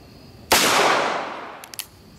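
A single loud .45 Long Colt revolver shot fired at a pumpkin outdoors, a sharp close blast with a long decaying ring, followed by a couple of faint clicks.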